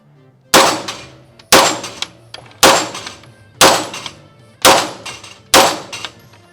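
A pistol fires six shots at a steel plate rack, spaced about a second apart. Each shot is a loud, sharp crack followed by a ringing metallic clang that fades quickly.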